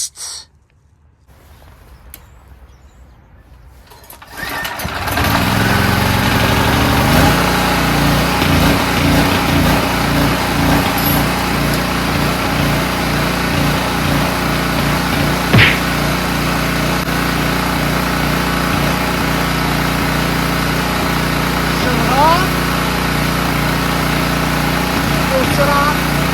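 A Generac GP3250 portable generator engine, freshly repaired, starts after a few seconds of quiet handling noise and then runs steadily with a loud, even, buzzing drone that holds close for the rest of the clip.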